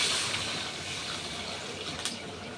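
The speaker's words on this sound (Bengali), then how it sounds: "এখন আমি জলটা দিয়ে দিব।" Water streams steadily into a pan of fish curry for a couple of seconds, a soft continuous pour with a brief splash near the end.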